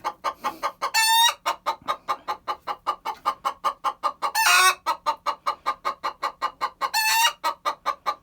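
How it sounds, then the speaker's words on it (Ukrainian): Young hens of the Livenska Calico, Amrox and White Leghorn breeds cackle in a steady, rapid rhythm of clucks close by, broken by three louder, harsher bursts of calling. "бо вони ось вже куткудакає наша курочка"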